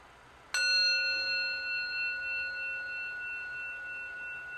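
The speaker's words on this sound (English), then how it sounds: "Like the sound of the bell now" A meditation bell is struck once during an online sangha gathering. The clear, bright tone rings out and decays slowly over several seconds in quiet.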